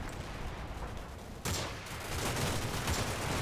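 Infantry gunfire in the Combat Mission war game, heard as a dense, continuous crackle of rifle and machine-gun shots at moderate distance, growing louder partway through.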